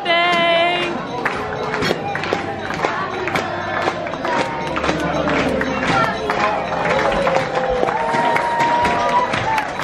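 A crowd claps and cheers for a birthday aboard a cruise ship, with bursts of sharp clapping and whoops mixed with excited voices and chatter throughout, fairly close and lively.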